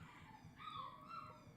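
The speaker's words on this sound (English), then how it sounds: "You might hear my dog howling in the background." A dog howling in the background, a faint, sustained wavering tone lasting the whole short moment, distant and soft.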